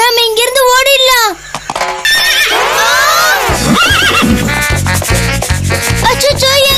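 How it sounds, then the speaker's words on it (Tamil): A cartoon horse whinnies loudly in rising and falling squeals, then its hooves clip-clop in a steady, even rhythm, close and bright, with animated music and effects around it. "அந்த சத்தம் எந்த மிருகத்தோட தான் இருக்கும்? குதிரையா?"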